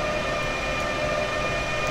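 A train in the Train Simulator 2015 game pulls away from a stop, giving a steady, loud rumbling drone with a high sustained whine on top, continuous and close, with no talking.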